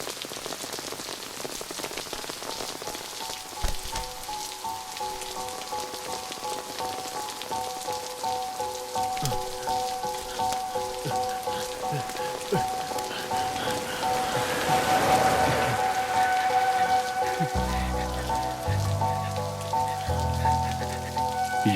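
Rain falls and patters steadily on surfaces for a long stretch, growing heavier midway, with music rising underneath toward the end.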